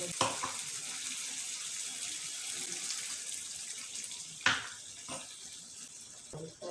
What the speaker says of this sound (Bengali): এখানে আমি একটু জল দিয়ে দিচ্ছি।